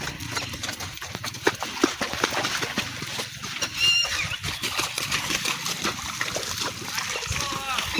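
A Kathiyawadi mare wades in a river, her hooves clip-clopping and splashing water in an uneven rhythm close by while people talk over it.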